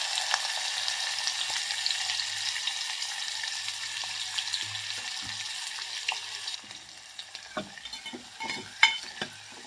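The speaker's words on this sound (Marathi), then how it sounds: "कांदा चांगला लालसर भाजायचा आहे आपल्याला" Chopped onion frying in hot oil, a loud continuous close sizzle that thins out partway through, then gives way to scattered scraping and clicks of stirring.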